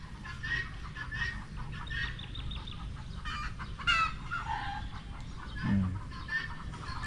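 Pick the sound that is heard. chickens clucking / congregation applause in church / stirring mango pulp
chickens clucking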